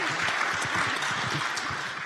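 Audience at a business round-table evening clapping steadily for a birthday, dense even applause filling the room, with some faint voices murmuring underneath.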